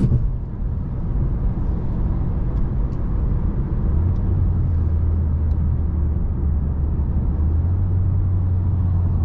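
An older Mercedes A200 sedan in AMG Line trim drives along, its engine and road rumble a steady, loud interior drone with a low tone that rises partway through.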